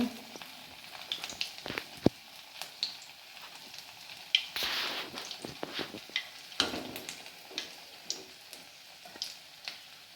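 Urad dal medu vada frying in hot oil, a soft, uneven sizzle with scattered pops, crackles and ticks, fairly quiet and close, with brief louder bursts as batter hits the oil.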